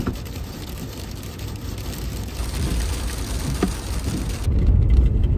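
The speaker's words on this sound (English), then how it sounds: "You hear that? There's a hailstorm." Hail patters steadily on surfaces around a camping truck during a hailstorm, a dense close rattle of impacts that grows louder toward the end.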